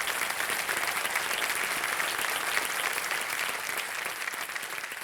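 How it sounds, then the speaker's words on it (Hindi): A studio audience on the quiz show Kaun Banega Crorepati claps steadily and densely, a sustained wash of applause with no break. "इतने लोग ताली बजा रहे हैं"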